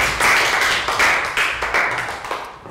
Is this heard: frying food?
no